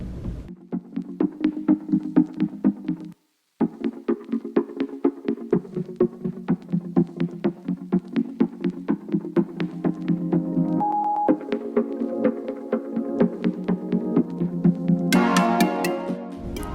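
A blender whirs steadily through cooked potatoes for a long continuous run, its motor humming with a rhythmic throb and a brief cut-out early on, rising in pitch near the end.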